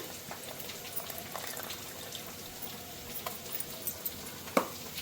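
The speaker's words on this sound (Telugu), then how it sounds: "చూడండి, పులుసు వేసేస్తున్నాను, చింతపండు పులుసు." Tamarind juice going into a pot of eggplant curry: a faint, steady bubbling simmer with soft liquid pouring and light stirring clinks, one sharper knock near the end.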